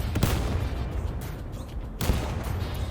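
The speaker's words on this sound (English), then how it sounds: "Please, bring artillery." Artillery shells bursting in a tactical shooter video game, two heavy booms about two seconds apart over a dense rumbling bed of continuous battle noise, loud and close.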